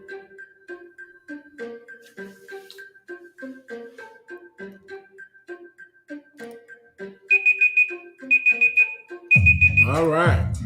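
A digital timer alarm goes off in three loud bursts of rapid high-pitched beeping near the end, after a stretch of quieter repeated tones. A voice cuts in right as the last burst plays.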